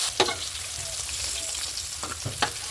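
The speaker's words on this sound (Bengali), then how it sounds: "এখন পনিরটা ভেজে নেব।" Paneer cubes frying in hot oil in a wok, a steady close sizzle with a few sharp spatters and clinks of stirring, no talking.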